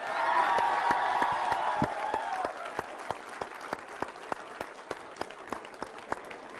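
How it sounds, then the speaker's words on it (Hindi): A studio audience applauds to welcome comedian Kapil Sharma on a TV news set, dense clapping at first that thins into sparse, distinct claps toward the end. "तो तालियों के साथ बहुत बहुत स्वागत।"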